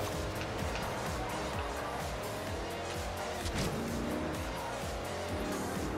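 A car drifting in the Forza Horizon 2 racing game, its engine droning steadily with squealing, skidding tires throughout, fairly close and continuous, no speech over it.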